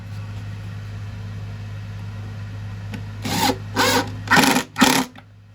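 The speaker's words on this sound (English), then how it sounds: "So now we're doing the Craig screws for the first side." Power drill driving Kreg pocket-hole screws into a wooden dresser frame: four short whirring bursts in quick succession over a steady low background hum.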